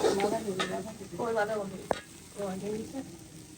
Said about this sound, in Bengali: মশলা কষাচ্ছে আম্মু সবজির জন্য